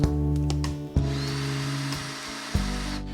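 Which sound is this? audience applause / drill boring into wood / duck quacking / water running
drill boring into wood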